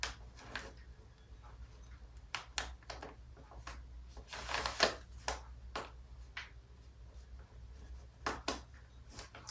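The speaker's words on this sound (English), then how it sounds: "I'll write a little." Pen writing by hand on paper, a quiet near scratching in short irregular strokes and bursts with small pauses between, faint room hum beneath.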